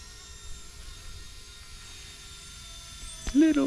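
An RC Era MD 500 Little Bird model helicopter flying, a thin high-pitched rotor and motor whine that holds steady and faint at a distance, then swells louder near the end.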